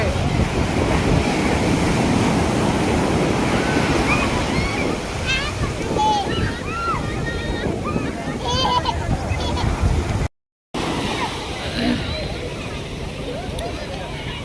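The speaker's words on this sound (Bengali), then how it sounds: "আর বেশি রাস্তা ঢেউ বাড়ছে" Rising sea waves on Puri beach give a continuous rushing surf under wind noise on the microphone, with voices talking throughout.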